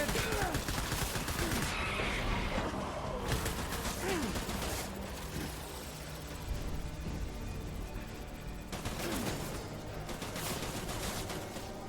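Dense bursts of gunfire from the video game Death Stranding come in rapid volleys that stop and restart, loud and close, with game effects filling the gaps.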